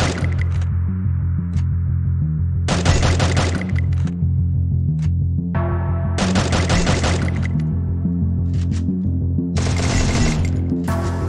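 Bursts of automatic gunfire in the Free Fire video game during drag-headshot practice, three loud rapid volleys separated by pauses over a steady low drone, with no talking.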